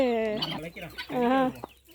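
A farmyard chicken clucks and squawks in a few loud, rough bursts close by, ending with a sharp short call.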